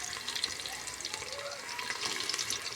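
Ground green masala paste frying with pink-browned onions for a green pea pulao, giving a close, steady sizzle with soft stirring and faint watery crackle, with no voices.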